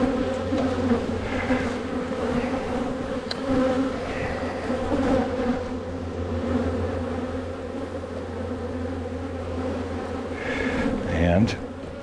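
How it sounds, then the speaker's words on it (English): Dense swarm of honeybees buzzing steadily during a hive inspection, a close, continuous drone with a few louder passes near the end. "because you got a lot of bees in there"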